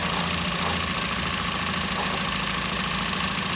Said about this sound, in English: Can you rev it a bit?